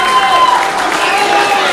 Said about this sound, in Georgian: აპლოდისმენტები თუ შეიძლება